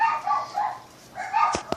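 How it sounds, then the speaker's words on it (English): Dogs bark indoors at a mail carrier, a few muffled, moderately loud woofs and yips, then two sharper barks close together at the end, with no speech. "The dogs are barking at the mailman."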